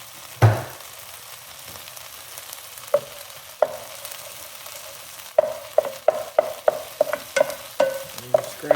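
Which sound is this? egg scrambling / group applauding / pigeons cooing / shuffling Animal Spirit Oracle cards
egg scrambling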